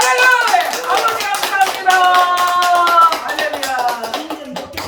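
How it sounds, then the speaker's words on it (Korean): A congregation at a Korean church revival meeting claps in a quick, steady rhythm while a loud voice speaks over the clapping throughout. "여러분 우리 하나님께 영광의 박수 한번 올려드릴까요?"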